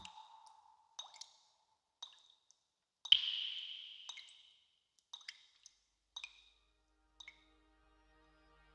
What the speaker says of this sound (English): There was no response, just the sound of water dripping.